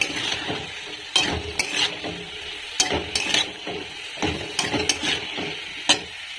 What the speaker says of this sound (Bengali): এবার এর মধ্যে আমি ডাঁটাটা দিয়ে দেবো। ডাঁটাগুলো দিয়ে হালকাভাবে নাড়াবো।